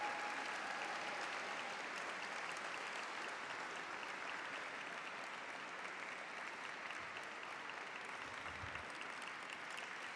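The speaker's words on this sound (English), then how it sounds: "Give them a round of applause." An audience at a Filipino American History Month celebration applauds, a dense, even patter of clapping that holds steady and unbroken from start to finish.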